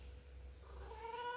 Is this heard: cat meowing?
yes